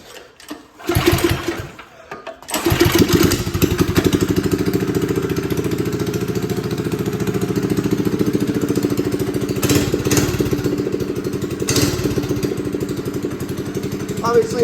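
A minibike's small engine gives a short sputter, pauses, then fires up and runs loud and close with a rapid, steady mechanical chatter that holds for the rest of the clip.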